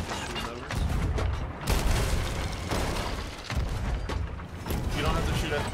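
Repeated cannon booms in Sea of Thieves as a ship fires on a skeleton ship, heavy blasts rolling one after another amid sea and battle noise, with voices talking over them.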